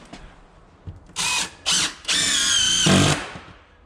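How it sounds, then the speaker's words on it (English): A power drill drives screws into I-joists in short bursts, two quick whirring pulls followed by a longer sustained run that bogs slightly as the screw seats, close and loud with no talking. "basically what I'm doing is putting a screw into every eye joist"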